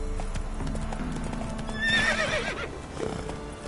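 Roach the horse in The Witcher 3 gallops with a steady clip-clop of hooves, and a whinny rises over the hoofbeats midway.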